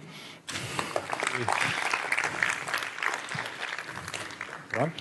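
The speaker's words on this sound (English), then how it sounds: "Can we have another round of applause?" Audience claps after a Kubernetes security talk at a 2019 tech conference, a burst of applause starting abruptly and continuing at a moderate, somewhat distant level, with a voice briefly audible near the end.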